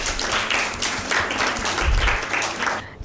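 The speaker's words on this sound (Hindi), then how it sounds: "आपके लिए भरपूर तालियां।" An audience at a Bible quiz show breaks into sustained, dense clapping after a correct answer, loud and continuous before cutting off at the end.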